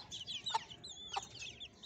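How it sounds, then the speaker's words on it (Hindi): A hen clucks in a few short, close bursts with a sharp, high-pitched quality, alongside brief chirps, in a quiet setting. "तो ये है जनाब हमारी वो पहले वाली मुर्गी।"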